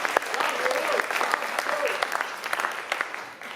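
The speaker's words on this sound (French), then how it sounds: "Qu'on applaudit bien fort." An audience applauds loudly at a French comedy show, a steady dense clapping that fills the whole stretch, alone with no talk.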